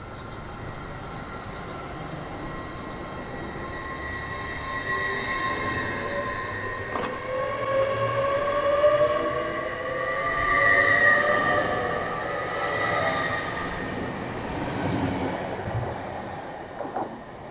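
Express passenger train passing through Alnmouth station at speed: a rising rumble of wheels on rails with clickety-clack and a brief high squeal, swelling loud mid-pass and then slowly fading.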